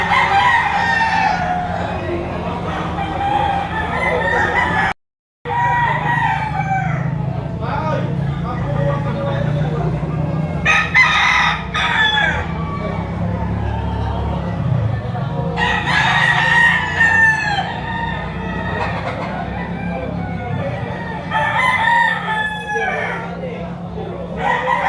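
Early bird banded gamefowl rooster from Liliw, Laguna, crowing repeatedly at close range, with clucks between crows and someone talking over much of it.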